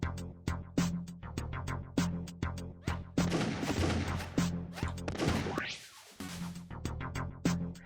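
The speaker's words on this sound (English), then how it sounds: "I am not good at shooting today!" Gunfire in the junkyard shooter game Kingdoms of the Dump: a rhythmic series of sharp shots, then a dense stretch of explosive blasts with a rising sweep before the regular shots resume.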